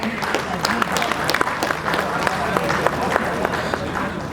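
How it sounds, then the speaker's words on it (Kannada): An audience claps loudly at an on-stage team presentation, with dense, continuous applause from nearby and cheering voices mixed in. "ಜೋರಾದ ಚಪ್ಪಾಳೆ ನಮ್ಮ ತಂಡಕ್ಕೆ"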